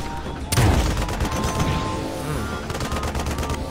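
Rapid bursts of gunfire with a heavy explosive boom from a thrown bomb in the Paladin Strike mobile shooter game, dense and loud, with a second flurry of shots toward the end.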